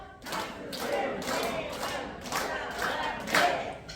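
A group of elderly day care center participants claps along in a rhythm exercise, giving several spaced bursts of hand claps at moderate volume in an indoor room.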